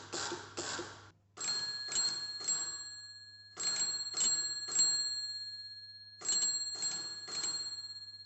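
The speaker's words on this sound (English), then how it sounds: "Thanks to the bell, it's possible to listen to the radio waves." The electric bell on Marconi's coherer radio receiver rings in rapid clattering bursts, groups of two or three quick strikes separated by pauses, loud and close, over a steady low hum.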